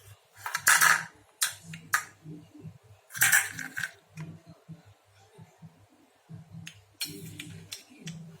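Almonds and cashew nuts dropped onto a banana dessert: scattered clicks and rattles in small bursts of several pieces landing against a dish, close up, with low murmurs and faint voice sounds in between.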